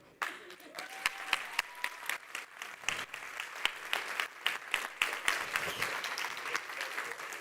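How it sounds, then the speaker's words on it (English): An audience applauds after a speech at a live talk event, sharp individual claps at first that build into sustained, dense applause filling the room, with a brief voice near the start. "Enjoy the applause, enjoy the applause, it's yours."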